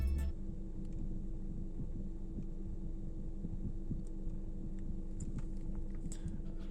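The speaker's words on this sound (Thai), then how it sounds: "มันจะมีเสียงพัดลมแทรกเข้ามาหน่อยนะครับ" A car's ventilation fan runs inside the cabin of a 2007-2012 second-generation Toyota Vios, a faint steady hum with low throbbing pulses and a few small clicks, no talking.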